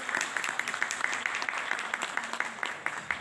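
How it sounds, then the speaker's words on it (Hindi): An audience at a junior quiz competition claps for a contestant, quick sharp claps from a modest crowd over a few seconds, with a voice speaking faintly underneath. "साद उस्मान, बहुत सारी तालियां होनी चाहिए साद उस्मान के लिए"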